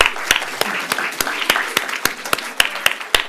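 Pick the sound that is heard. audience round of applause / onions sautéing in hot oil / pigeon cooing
audience round of applause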